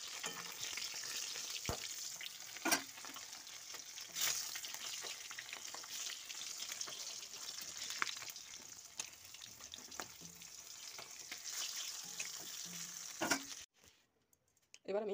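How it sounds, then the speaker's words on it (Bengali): A rohu fish head and tail fry in oil, giving a steady, moderately close sizzle with occasional sharp ticks and spatula knocks, before the sound cuts out briefly near the end. "এবার আমি মুড় আর ন্যাকটা ভেজে নিচ্ছি"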